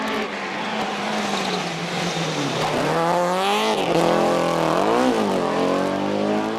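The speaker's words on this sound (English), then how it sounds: "Raymond Conlon and Darren McKay drive their little Toyota Corolla to a sideways 3rd place." A little Toyota Corolla rally car at the Circuit of Ireland Rally drifts sideways on a stage, its engine wailing and revving up and down loudly and close while tires scrub and squeal.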